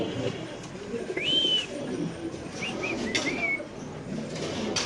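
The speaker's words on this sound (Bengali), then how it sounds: "বিগ সাইজের কবুতর দেখেন ভাই" Large Indonesian Mundian pigeons in a pigeon market coo and chirp in short calls over a busy background murmur, with faint voices nearby.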